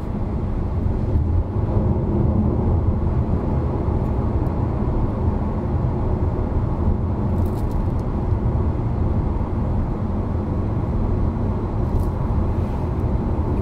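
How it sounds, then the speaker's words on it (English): Tires of a Hyundai Kona Turbo on 18-inch wheels roll over tarmac while driving, producing a steady low rumbling roar inside the cabin, continuous and even throughout with faint occasional clicks. "it's actually the noise of the tires impacting on the tarmac"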